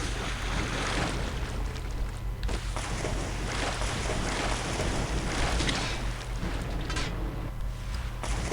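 Player skiing and skipping across water in the video game Tribes: Vengeance, a steady loud rushing wind-and-water roar with bursts of spray, continuous throughout.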